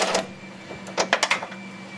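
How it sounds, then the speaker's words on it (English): Ratchet clicks from loosening coil pack bolts on a Porsche 911 engine, a quick close burst of metallic ticks after a few isolated clicks, no talk. "And that is removing the very first couple bolts off the first coil pack"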